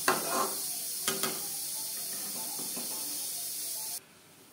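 Green mango chutney being stirred in a pan gives a soft sizzle and hiss with a few faint scraping knocks of the spoon, quiet and close, before cutting off near the end.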